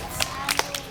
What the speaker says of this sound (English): Clap for her, for him.